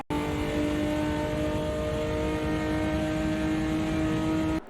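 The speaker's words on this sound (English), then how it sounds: "Zachy 3 and Barron sparred most of the mid-race, with Barron piling on the pressure on the green Cooper's car" Race cars on a circuit during a Eurotour round, a steady loud engine drone with strong harmonic tones held throughout, close and continuous with no talk.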